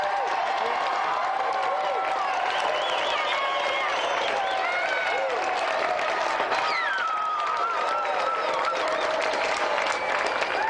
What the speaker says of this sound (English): let's have another round of applause for our three volunteers, Jack, Angela and Rashpal.